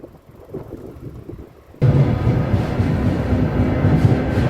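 Ride aboard an electric commuter train heading toward Uzhhorod in western Ukraine: a quiet interior rumble suddenly jumps to a loud, steady roar of wheels and carriage noise, close and continuous, with no talk.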